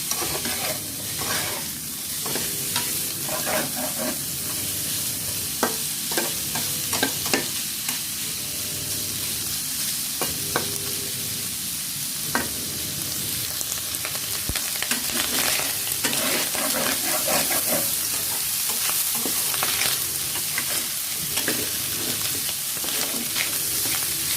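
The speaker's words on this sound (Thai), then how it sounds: "คั่วให้เขาน้ำมันออกมาก่อนนะ แล้วก็หัวหมูเราก็จะมีกลิ่นหอมนะคะ" Pork head stir-frying in oil in a hot pan, a loud continuous sizzle broken by frequent spatula scrapes and metallic clanks, steady and close with no talking.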